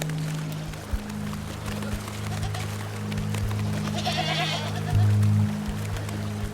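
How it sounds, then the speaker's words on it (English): Goats bleat at a mineral lick in the Canadian wild, several wavering calls rising over a low rumbling background as dominant animals jostle, with a louder, nearer bleat toward the end. "Dominant goats jostle for position."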